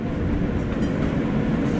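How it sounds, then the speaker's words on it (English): Aboard a New York City subway F local train on the Culver line toward Coney Island, a steady loud rumble of wheels and car body fills the ride, continuous and close. "This is Coney Island, Culver Avenue bound F local train."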